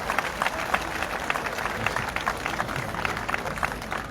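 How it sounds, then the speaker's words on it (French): A church or Catholic gathering audience applauds steadily for a priest, dense clapping sustained throughout at a moderate distance, with faint voices mixed in. "Vos applaudissements encore pour l'Abedo."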